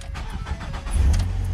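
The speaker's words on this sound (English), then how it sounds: "So let's start it up and see if we did a good job." A 2.5 L Ford Fusion engine cranks briefly and catches after a fuel pump replacement, settling into a loud, close, steady idle.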